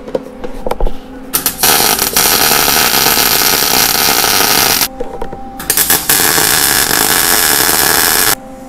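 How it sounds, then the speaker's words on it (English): An arc welder lays short beads on a homemade motorcycle cargo rack, with two long, loud, steady crackling buzzes close by separated by a brief pause and a few clunks. "One last little weld. 2 last little welds."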